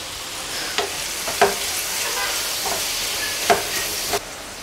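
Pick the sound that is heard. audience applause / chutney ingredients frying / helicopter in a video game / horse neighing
chutney ingredients frying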